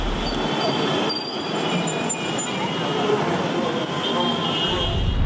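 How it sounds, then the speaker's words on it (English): Steady loud roar and rumble of a train at Mumbai's CST railway station, with faint high metallic squeal from wheels, people talking over the constant din. "here we are at CST train station"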